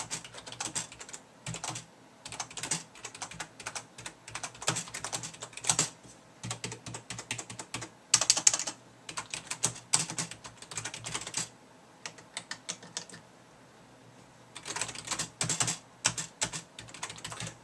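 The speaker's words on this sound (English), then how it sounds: "Here's a couple of test sentences just so you can hear what the keyboard sounds like." Rapid, fairly quiet keystrokes tap out sentences on a Mad Catz S.T.R.I.K.E. 7 gaming keyboard, in irregular bursts with short pauses between, close to the listener and with no talking.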